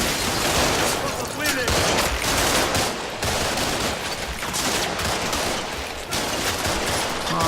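Gunfire in Combat Mission: Shock Force crackles in dense, overlapping bursts of rifle and machine-gun fire, loud and continuous for several seconds with brief lulls.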